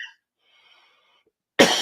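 A single sharp, loud cough close to the microphone after a quiet pause, preceded by a faint voice.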